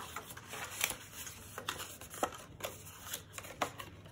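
Paper being folded and creased for papercraft gives a run of crisp rustles and sharp crackling snaps, close and fairly quiet, with no voices.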